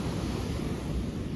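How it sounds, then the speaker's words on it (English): Strong coastal wind at Elands roars steadily into the microphone over constant crashing surf, a dense, unbroken wash of noise with no voices. "Way too cold, way too windy to swim."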